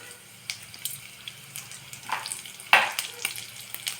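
Mustard seeds and asafoetida sizzle in hot oil, a faint steady crackle broken by scattered sharp pops and spits, heard close with no talk.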